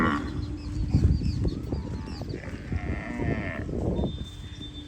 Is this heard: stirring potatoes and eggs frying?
no